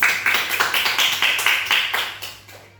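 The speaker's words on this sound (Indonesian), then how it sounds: "Tepuk tangan dulu dong untuk Yasmin" Students in a classroom clap for a classmate named Yasmin, a short burst of rhythmic, fairly synchronized claps at a steady beat, close and clear, fading out at the end.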